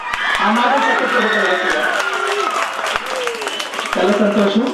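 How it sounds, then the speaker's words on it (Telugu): Audience applause at a school recital of Vemana poems, steady dense clapping throughout with voices and talk running over it, fairly loud and close. "మీరు చప్పట్లు కొడుతున్నామండి"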